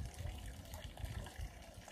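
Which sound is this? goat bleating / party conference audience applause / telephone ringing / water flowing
water flowing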